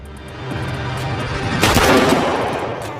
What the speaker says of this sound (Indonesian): Cat dan Varric saling menembak